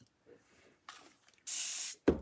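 A spray bottle gives a few short hissing bursts, one long spray followed by a sharp quick spritz, close by.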